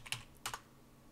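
A few quick keystrokes on a computer keyboard, two short clusters of close clicks in quiet surroundings, as commands are typed into a Betaflight command line.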